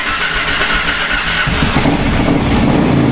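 A Kawasaki KFX700 ATV's V-twin engine fires up: a loud, close starter whine gives way to a rough rumbling idle with no one talking.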